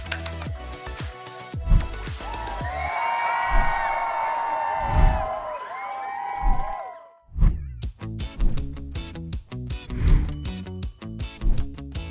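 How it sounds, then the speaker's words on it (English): Audience applause and cheering at a college awards ceremony, with whoops and shouts over clapping, a brief lull midway, then renewed bursts of cheering and loud calls from the crowd. "I hope you'll join me in giving Emily a big round of applause and to say thank you to her."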